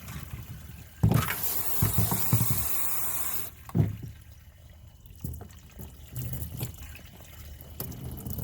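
Water runs over tumbled stones during a rinse, a loud gushing burst of about two and a half seconds, then softer intermittent splashing and trickling close by.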